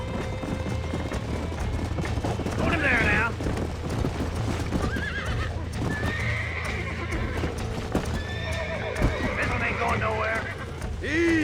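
Several horses whinny and neigh loudly over rapid hoofbeats in a video game, with shouting voices and music mixed throughout.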